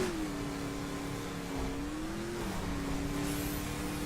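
Engine of an off-road buggy in the racing game The Crew, droning steadily with slight pitch swells like light revving, continuous and fairly quiet throughout with no talk.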